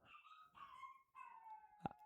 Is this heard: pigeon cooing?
no